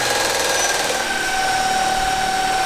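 A small propeller spun by the electric motor of a homemade electric ultralight aircraft under a light test load gives a steady, loud, high whirring whine with a constant pitch and no talking.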